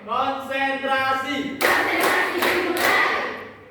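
Schoolchildren in a class play a clapping rhythm game: a chorus of chanting voices opens, then the whole group bursts into loud, close hand clapping in quick rhythmic pulses that fade at the end.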